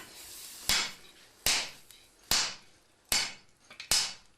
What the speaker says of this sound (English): The last folds have to be flattened with a mechanical hammer.